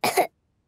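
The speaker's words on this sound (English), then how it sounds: "And Monkey has a cough." A short cartoon cough from Monkey, a toy in a Peppa Pig children's episode, a single raspy burst followed by silence and the start of another.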